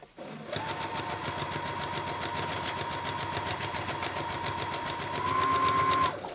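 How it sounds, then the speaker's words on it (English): A sewing machine runs steadily and close, stitching ribbon trim along the edge of a tutu, its rapid needle chatter continuous for several seconds and rising slightly toward the end. "You're going to sew this ribbon to the entire edge of this edge"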